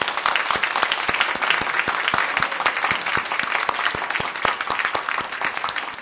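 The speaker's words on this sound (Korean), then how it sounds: "하나님께 영광의 박수, 성가대에게도 영광의 박수, 하나님께 드리는 박수로 한번 다 격려하면 좋겠습니다" Loud, sustained clapping from a large church congregation at a Sunday service after a choir performance, dense and even, with sharper individual claps standing out throughout.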